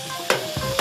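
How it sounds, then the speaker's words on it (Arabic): Meat stirred in a hot pan with oil, onion, garlic, grated ginger and green and hot peppers, a background sizzle broken by two or three sharp scraping stirs, close by. "ابدا اقلب اللحمه مع الكلام ده كله"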